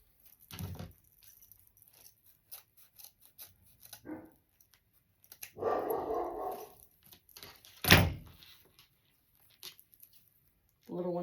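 A two-year-old female dog barks in a few sharp bursts spaced several seconds apart, fairly close but quiet, with faint shuffling and rustling between barks.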